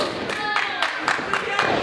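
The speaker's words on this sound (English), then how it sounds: "If you hear that clapping for Joe Scott, don't be fooled" A crowd at a wrestling match claps in a steady rhythmic beat, about two claps per second, under a commentator's voice talking over it.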